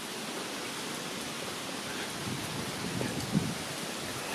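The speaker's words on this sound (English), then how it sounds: "It's a steady, hard wind. It's not like, hurricane or nothing like that, but it ain't a gentle breeze either." A steady, hard wind sweeps across the Superior Hiking Trail, an unbroken, even roar with one brief bump of buffeting near the end.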